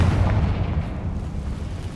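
Confringo fire spell explosion in the video game Hogwarts Legacy: a loud, deep blast that rolls into a steady low rumble for about two seconds, heard alone without speech.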